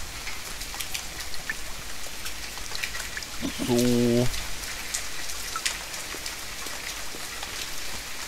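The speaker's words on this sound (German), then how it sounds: "Ich höre Regen, ich sehe zwar keinen, aber ich höre Regen." Steady rain patters in the survival video game The Forest, a soft continuous hiss with a brief musical tone in the middle and a few faint spoken words.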